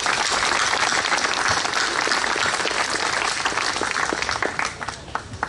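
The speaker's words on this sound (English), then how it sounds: "So give them a big round of applause." A memorial audience for the Siege of Jadotville breaks into loud, sustained applause, a dense wash of many hands that holds steady before thinning and tapering near the end.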